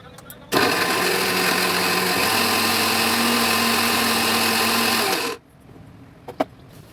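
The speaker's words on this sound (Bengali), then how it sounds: "মিক্সার গ্রাইন্ডারে একবার বুলিয়ে দিলাম, হয়ে গেল।" An electric mixer grinder grinds spices for a fish curry, a loud steady motor whine running for about five seconds, then cutting off abruptly, with faint kitchen sounds after.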